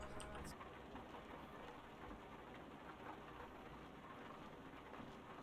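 Steady in-game rain from Euro Truck Simulator 2 hisses continuously and evenly across the whole stretch, moderately loud with no voices over it.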